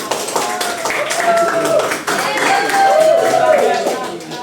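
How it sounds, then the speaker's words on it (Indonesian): Students in a classroom clap for their group representative, a scattered, uneven round of hand claps with voices talking and calling out over it. "Tepuk tangan buat perwakilan."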